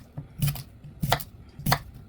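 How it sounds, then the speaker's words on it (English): A knife chops crispy cucumber on a board in three sharp, evenly spaced strikes, close and fairly loud with brief quiet between them. "Now let's chop hydrating and crispy cucumber."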